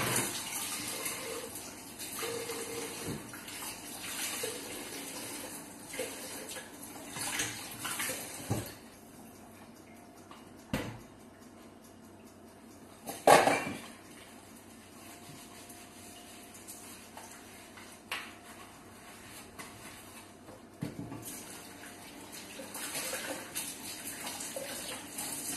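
Tap water runs steadily into a kitchen sink while something is washed under it during home baking of carrot cakes, a soft continuous rush broken by occasional clinks and knocks of utensils, with no talk.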